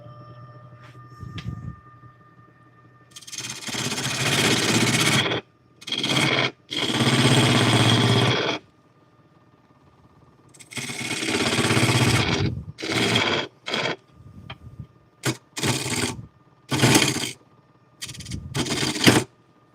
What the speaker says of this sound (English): Trying to file some of that outer lip down.